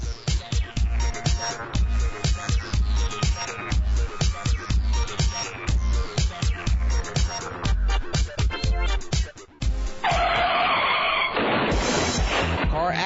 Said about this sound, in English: Car accident,